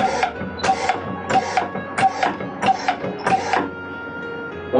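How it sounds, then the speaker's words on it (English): A sealant pump's ram drives forward, making a regular series of six mechanical clunks and whirs about half a second apart over a steady machine hum, fairly close and loud. "the ram is moving forward, allowing you to pump in your sealants"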